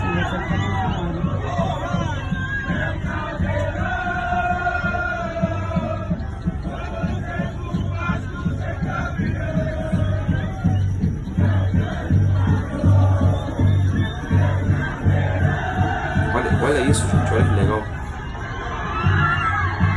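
Vasco supporters in Manaus cheer and chant at night, a loud, rhythmic crowd roar with pulsing chants that swell toward the end, while someone speaks over them.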